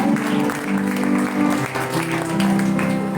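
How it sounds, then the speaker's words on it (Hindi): Applause from a church congregation, honoring an aunt after her testimony, sounds as a steady wash of clapping that runs throughout, with a sustained musical tone underneath and some voices mixed in. "सो आंटी के लिए मैं चाहती हूँ एक दफ़ा जोरदार तालियां"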